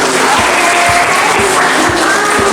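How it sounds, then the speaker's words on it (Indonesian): Dense, continuous applause from an audience at a Maybrat regency event in Papua, loud and close, filling the whole moment without pause. "Mari kita tepuk tangan semua."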